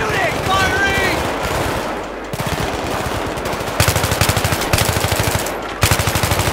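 Rapid bursts of automatic gunfire in the video game Battlefield 3 rattle loudly in rhythmic volleys, with voices calling out in the middle of the firefight.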